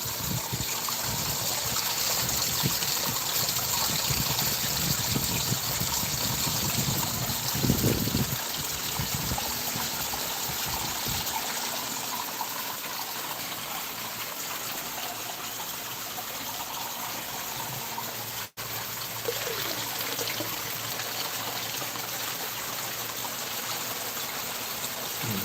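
Water splashing and trickling over a log, a continuous rushing, gurgling flow that stays steady for the whole stretch, with a brief knock partway through and no speech.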